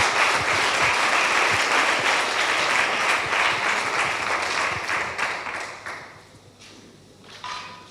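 A conference audience applauds a speaker at a mathematics and music event, a steady dense clapping that thins out and fades over the last couple of seconds, with a few scattered claps afterward.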